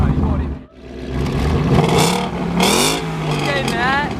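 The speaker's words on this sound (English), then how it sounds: "You trying to rev it real fast?" At a car meet, a Nissan known for spitting flames revs its engine hard in several rising surges, each climbing into a loud, close whine, while voices talk over the noise.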